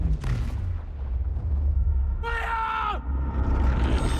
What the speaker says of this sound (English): a bomb drops in the water, causing a huge explosion